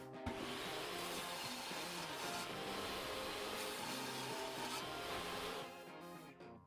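A saw cuts scrap wood into squares, a continuous loud, close buzzing whine that holds steady for several seconds before winding down.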